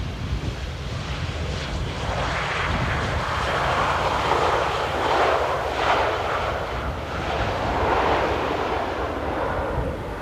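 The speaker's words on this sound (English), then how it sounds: "And the last plane is on approach." A jet airliner on final approach to Amsterdam Airport on a windy day, a steady broad roar of engines swelling gently over ten seconds, mixed with gusty wind buffeting the microphone, no voices.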